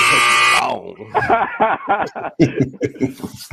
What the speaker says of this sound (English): I don't even know if my buzzer hit or not there, but yeah, it buzzed